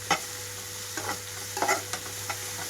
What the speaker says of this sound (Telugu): 2 నిమిషాల పాటు హై ఫ్లేమ్లో ఉంచి వేయించుకోవాలి.